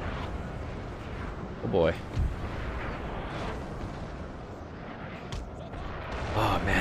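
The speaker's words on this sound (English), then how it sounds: "we just get to continue the artillery fire" Artillery fire booms in Napoleon Total War with Darthmod, a rumbling battlefield barrage with a few sharper blasts and whooshing shells. Someone speaks briefly over the din.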